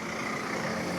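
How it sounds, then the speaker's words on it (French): A truck rumbling past near a French roadside on the way toward Saint-Gervais-les-Bains, a brief, steady low engine drone filling a second with no voices. "Oh, il y a un camion qui veut passer, oulala."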